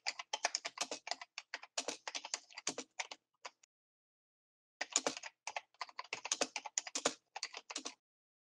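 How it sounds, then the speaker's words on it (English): Rapid clicking of a computer keyboard, close and crisp, in two bursts of typing separated by a pause of over a second, with no talk. "It's the keyboard clicking, that's what it is."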